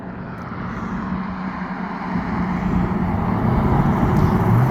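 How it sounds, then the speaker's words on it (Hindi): Small airplane coming in to land at a nearby airport in North Carolina, a steady droning engine roar that swells gradually louder as it approaches, with no one speaking. "वो जहाज़ अभी लैंड करेगा, लेकिन छोटा जहाज़ लग रहा है मुझे"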